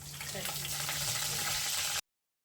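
Mustard seeds, cumin and curry leaves sizzling in hot oil in a pan while tempering, a dense, steady crackling hiss close by that cuts off abruptly after two seconds.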